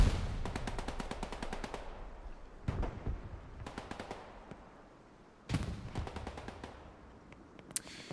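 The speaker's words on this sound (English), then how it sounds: "David Koresh throws a grenade over there to the distance" Rapid automatic gunfire from an online shooter game crackles in repeated bursts, broken by sharp blasts that fit a grenade explosion. The shots sound fairly close, with no talk over them.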